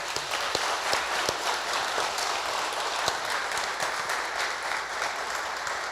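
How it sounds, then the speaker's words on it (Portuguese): Audience applause for a regional deputy at a Progressistas party gathering in Veranópolis, a steady dense clapping sustained throughout with a few sharper claps standing out. "A salva de palmas."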